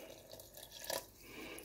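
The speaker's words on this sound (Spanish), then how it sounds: "ahora le voy a echar un poquito más de medio vaso de agua" Water is poured from a glass into blended cucumber and apple soup, a faint, soft splash and trickle heard alone for under two seconds.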